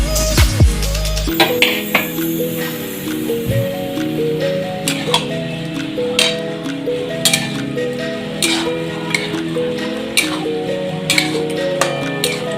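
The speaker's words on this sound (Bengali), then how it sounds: "ভালো করে নেড়ে নেবো।" A spoon stirs paneer curry in a pan, tapping and clinking against the metal in a steady repeated rhythm under background music.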